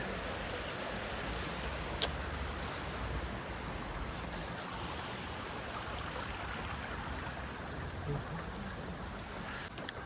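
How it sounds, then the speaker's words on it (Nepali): A waterfall in Seolbong Park rushes in a steady, broadband roar at a distance, continuous and fairly faint, with no talk over it. "झरना।"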